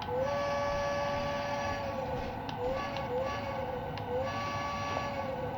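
A model train whistle on a Lionel LionChief-upgraded 671 turbine locomotive sounds in a sustained steady tone, repeating in short blasts over a constant mechanical hum.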